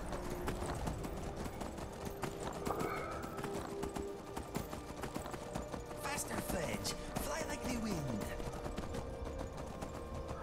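Horse hoofbeats in the game Skyrim, a steady rhythmic clip-clop of a ridden horse amid game ambience, with someone talking over it.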